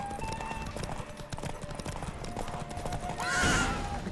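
Horse hooves clip-clopping at a steady gallop in The Witcher video game, with a whinny rising near the end over a bed of game music and effects.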